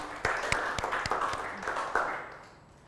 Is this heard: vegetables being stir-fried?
no